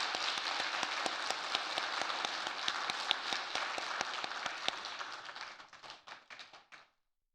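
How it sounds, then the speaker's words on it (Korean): A church congregation applauds a newly appointed children's department minister as he is introduced. The close, steady clapping carries sharp individual claps, then tapers into a few isolated claps before falling silent. "차려 인사 박수해 주십시오."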